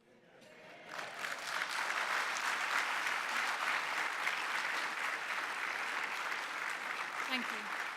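Members of the Church of England General Synod applauding in a large assembly hall, clapping swelling in within the first second and then holding as a dense, sustained roar of many hands, with faint voices underneath.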